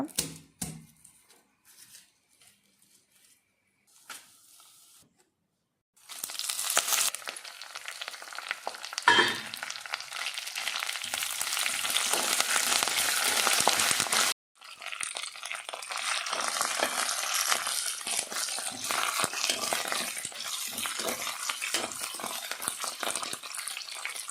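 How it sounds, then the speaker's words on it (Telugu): Peeled garlic cloves hit hot oil in a home-kitchen pan and fry with a loud, steady crackling sizzle that keeps going, briefly interrupted once, after a few quiet handling sounds at the start. "వెల్లుల్లి రెబ్బలు కూడా ఒలుచుకొని ఫ్రైలోకి యాడ్ చేసుకుంటున్నాను"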